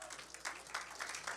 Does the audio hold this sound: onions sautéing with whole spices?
no